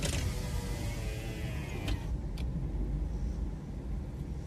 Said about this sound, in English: Let me actually turn the AC off and roll down these windows.